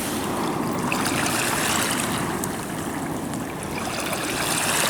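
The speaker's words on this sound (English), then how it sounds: "let's give this pipe a rinse off and see if we can see what it says on the side" Running water surges loudly and steadily as a clay tobacco pipe found by the River Thames is rinsed off, with a constant washing, stream-like rush that covers the whole clip.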